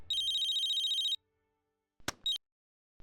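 A phone rings with a repeating electronic ringtone for about a second, then falls silent before a few brief clicks and a short final beep as the international call is answered.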